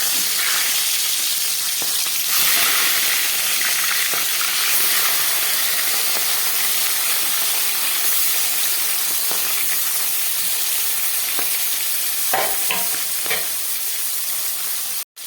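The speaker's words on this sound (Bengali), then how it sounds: "মাছ আর মাথাগুলো খুব ভালো করে এবার আমি ভেজে নিচ্ছি" Loud, steady sizzle of fish pieces and heads frying in mustard oil in a pan, a continuous hiss with occasional crackles and spatters throughout, no voices.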